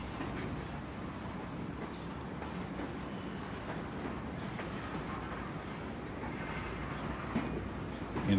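A locomotive-hauled train pulls out of Conklin Yard, a continuous low rumble with faint rail clatter, heard close and steady throughout with no talk.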